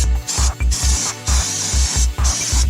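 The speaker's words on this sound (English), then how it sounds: "You spray it down with some brake cleaner." Brake cleaner sprayed onto car brake calipers in short, loud, close hissing bursts, about five or six sprays with brief gaps and a faint rattle between them.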